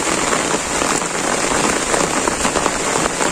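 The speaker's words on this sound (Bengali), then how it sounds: "বৃষ্টিটা নামছে সুন্দর।" Steady rain falls on a village during the rainy season, a loud, even patter of drops striking nearby surfaces, continuous and without voices.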